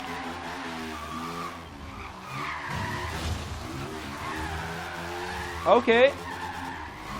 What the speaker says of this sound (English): First gear still seems to be the best for the drifting,